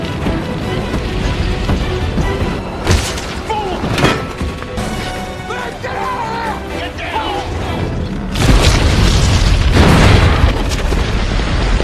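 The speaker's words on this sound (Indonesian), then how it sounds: "secara tak terduga terjadi ledakan akibat bubuk mesiu yang terpicu oleh api dari flare tersebut" Deep booms and crashes rumble amid scattered voices, building to a louder, sustained blast near the end as gunpowder ignited by a flare explodes aboard a ship.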